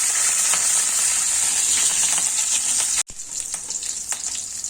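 Green chillies frying in oil in a home kitchen pan, a steady close sizzle with small crackles, briefly dropping out then resuming.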